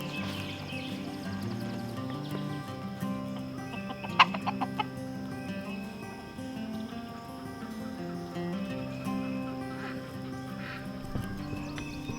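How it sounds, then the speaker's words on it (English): Several chickens cluck steadily on a homestead, with duck-like quacking mixed in, moderately near and continuous, a brief sharper call standing out partway through. "Even when all the other chickens were locked in the pen, Little Guy always found a way out"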